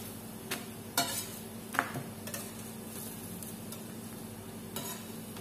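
A paratha fries and is flipped in a hot pan, giving a steady close sizzle broken by a few soft knocks and scrapes of the turn.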